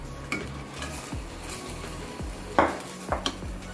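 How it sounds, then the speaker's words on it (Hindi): A spoon scrapes and clinks against a pan while cumin potatoes are served out, with soft sizzling underneath and a few sharper metallic taps near the end, close and without talk. "और ये देखिए डिश आउट कर रही हूँ मैं।"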